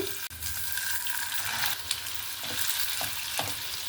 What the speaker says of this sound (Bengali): আমি একে একে এবার চিকেনের টুকরোগুলো এখানে দিয়ে দেব